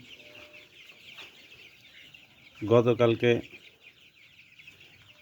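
Nineteen-day-old chicken chicks give a short, loud burst of cheeping and clucking midway, with quiet room noise and someone speaking before and after.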